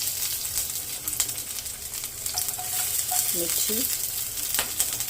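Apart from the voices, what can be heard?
onions and chillies frying and tossed in oil in a thick pan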